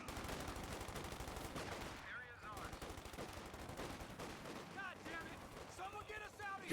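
Grenadier rifle fire in the strategy game Company of Heroes, a dense, ongoing mix of gunshots and bursts under a commentator's voice.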